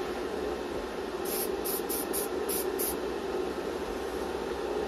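Aerosol spray can misting a model car windshield during weathering work, heard as a run of short hissing bursts, about six in quick succession, over a steady low background hum.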